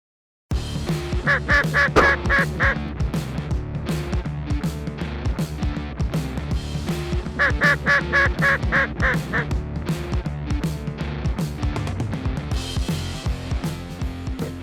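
Ducks quack loudly and continuously on the water during a South Texas duck hunt, a dense, overlapping chorus of calls that runs steadily through the whole stretch with no talking.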